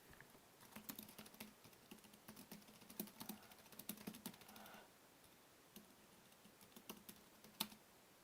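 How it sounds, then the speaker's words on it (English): Typing on a computer keyboard during a live trading session, with irregular bursts of quiet, close key clicks and brief pauses between runs. "just typing something out"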